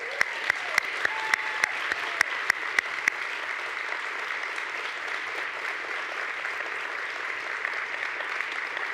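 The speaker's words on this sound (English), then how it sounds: "Let's give them a round of applause." Steady audience applause fills an arts and humanities awards ceremony in Juneau, Alaska, a dense wash of many hands, with a few sharper, louder claps standing out near the start before the clapping settles into an even, continuing roar.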